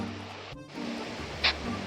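Water pours down Chinnakallar waterfall in a steady, close broadband rush that holds throughout, with one brief high tone near the end and no voices.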